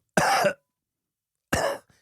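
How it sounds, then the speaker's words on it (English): Two sharp, loud coughs up close, separated by a second of silence, each a short rough burst. "What does a cough sound like"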